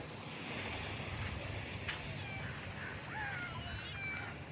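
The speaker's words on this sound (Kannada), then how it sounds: "ಅಲ್ಲೋಡಿ ಬೆಕ್ಕು ಕ್ಯಾಟ್" Faint meowing of a cat in the Maldives, a couple of thin calls over a steady wash of background noise.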